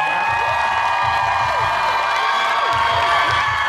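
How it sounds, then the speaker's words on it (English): A big crowd at an Emerald City Comicon 2022 panel cheers, claps and whoops for Jinkx Monsoon and BenDeLaCreme, a loud, continuous roar of applause with shrill shouts rising through it. "Please give a huge round of applause for Jinkx Monsoon and Ben de la"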